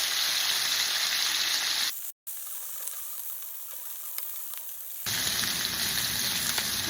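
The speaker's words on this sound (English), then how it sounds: "You just want to get it seared and brown, because that's going to help make the gravy" Oxtails and beef necks searing in a hot pan, a dense steady sizzle that cuts out for a few seconds midway under a quieter hiss, then returns at full strength, with no talking.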